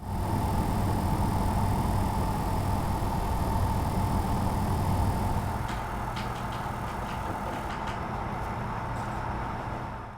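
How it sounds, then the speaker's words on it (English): A GTX 285 graphics card under gaming load gives off a steady broadband buzz with a constant hum, continuous and moderately loud, with a few faint ticks partway through and no talking. "This GPU underload makes a buzzing sound."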